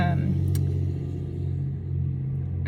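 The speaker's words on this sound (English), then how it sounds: "it's this truck pulling, like a camping rig, a like little camping attachment" A truck towing a small camping trailer rumbles past nearby, a steady low engine drone that swells and fades slightly.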